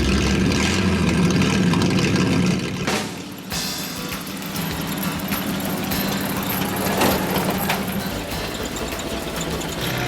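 A 1941 Dodge army truck engine idles and runs steadily under its own power with a rough, rattling mechanical churn, close by, briefly dipping before settling into a continuous drone.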